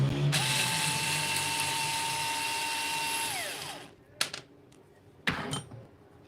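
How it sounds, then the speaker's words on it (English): Power screwdriver whirring steadily for about three seconds while removing heatsink screws from a PCB, then winding down, followed by a couple of sharp clicks and rattles of small parts. "I need to remove the heatsink screws."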